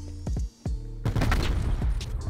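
Rifle fire in a shooter video game using a weapon with rapid fire and hybrid magazines, several sharp close shots followed by a dense burst of rapid gunfire, loud and alone.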